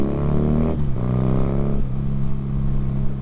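A higher-performance motorbike, a step up from a postie bike, revs hard and holds high in its rev range, the engine note rising, dipping briefly and climbing again, loud and close with a steady harmonic drone.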